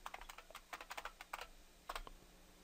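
Quick bursts of keystrokes on a computer keyboard entering a password, close and fairly quiet, arriving in irregular clusters with a short pause before a final flurry.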